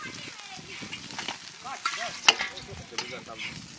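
Katla fish pieces fry in a pan at a winter family picnic, a steady crackling sizzle with scattered sharp pops and stirring scrapes, while people talk nearby over the cooking.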